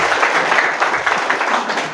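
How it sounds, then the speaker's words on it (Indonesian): Audience applause at an Indonesian lecture gathering, a steady wash of many hands clapping throughout, fairly loud and close with no talk over it. "Tepuk tangan dulu."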